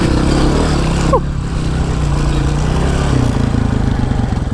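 Dirt bike engine droning loud and steady while riding a dirt track, with a brief pitch shift midway as the throttle changes, close and continuous with no talk.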